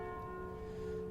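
The Calling Bell relic in the video game Slay the Spire rings a sustained, resonant church-like bell tone that holds steady and quiet, with no talk over it.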